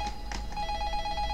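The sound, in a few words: telephone ringing in a video game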